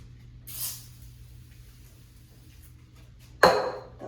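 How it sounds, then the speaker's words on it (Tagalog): An aerosol spray can hisses onto a mirror in two short bursts: a soft one first, then a sharper, louder blast a few seconds later, against a quiet room hum. "in-spray ko na siya"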